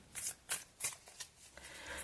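Tarot cards being shuffled by hand, a run of quick papery riffling bursts in an uneven rhythm, close and fairly soft, with no talking over it.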